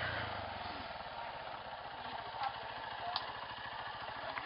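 A Honda CG 150 motorcycle engine idles steadily with an even, throbbing pulse, heard from close by with a faint clatter and no voices.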